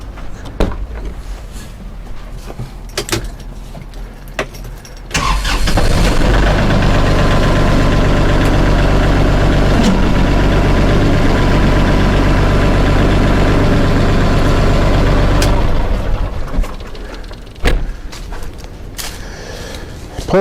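A Kubota L3560 tractor engine idles nearby, then rises to a loud, steady working drone as the implement is lifted, holding for about ten seconds before dropping back to a lower idle.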